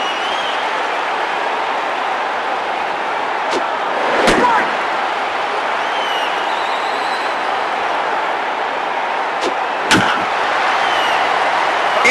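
Two sharp, loud bat cracks several seconds apart in MLB PowerPros 2008, the second a foul ball hit into the stands, set over a steady crowd roar and game music.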